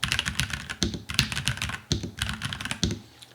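Rapid typing on a NuPhy Halo 65 mechanical keyboard with brown switches, a steady stream of crisp, sharp key clicks with brief pauses, close up.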